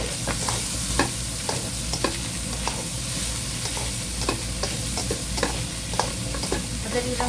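Roasted duck stir-fries in a hot wok with aromatics and fried garlic, a constant loud sizzle broken by repeated sharp scrapes and clanks of the spatula tossing the pieces.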